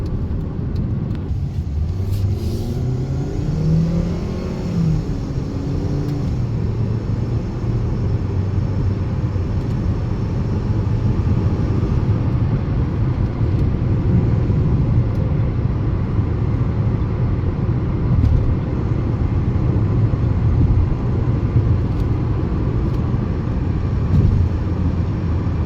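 Steady cabin rumble of a 2012 Kia Optima with a 2.4-liter engine cruising on the road, a continuous low drone of engine and tire noise that holds evenly throughout, with no voices.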